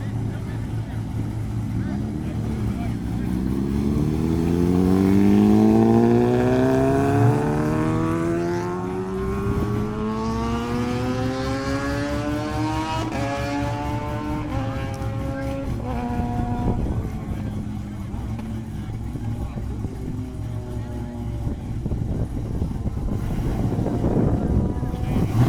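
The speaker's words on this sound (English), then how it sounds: "that's a Camaro." A Chevrolet Camaro street racing in Mexico roars past up close, its engine note climbing through the gears in rising sweeps over wind noise, with people talking nearby.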